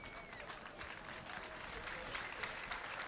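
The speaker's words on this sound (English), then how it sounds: "as the fans here clap" Football fans in a stadium clap for an injured player as he limps off, a faint, distant wash of applause and crowd murmur throughout.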